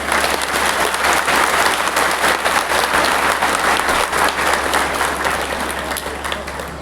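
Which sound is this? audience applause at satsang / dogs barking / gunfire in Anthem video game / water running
audience applause at satsang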